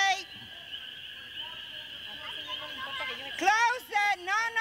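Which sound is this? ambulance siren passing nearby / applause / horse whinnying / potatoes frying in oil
horse whinnying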